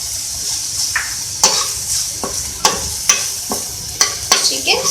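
A spoon stirs a chicken white sauce with black pepper and chicken powder in a hot pan, with repeated sharp clinks against the pan over a steady sizzle.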